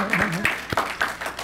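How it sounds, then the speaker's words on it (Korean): A church congregation at a Sunday worship service clapping to welcome visitors: a handful of separate, sharp claps spaced unevenly, with a voice speaking briefly at the start. "예, 박수로 환영하겠습니다."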